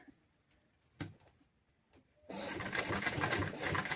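After a few quiet taps and handling clicks, a sewing machine starts up and stitches along a folded fabric edge for a children's garment, a close, steady rattling whir.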